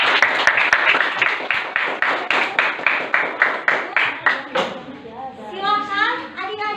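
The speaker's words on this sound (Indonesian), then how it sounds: "Ya, kita beri aplaus dulu." Classroom applause from a group of students, a steady run of quick, sharp claps that holds evenly, then gives way to a voice speaking afterward.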